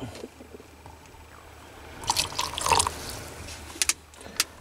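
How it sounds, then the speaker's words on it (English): Cold water poured into a pot of cowboy coffee on a small boat: a quiet start, then a close splashing pour lasting about a second, followed by a few brief drips and splashes. "the method I like to use is shock it with cold water, which adds a little bit more water to the drink, like this."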